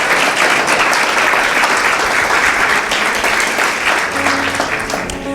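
A church congregation applauds together during a sermon, a dense, steady wash of clapping that fills the room and holds loud throughout before tapering slightly at the end.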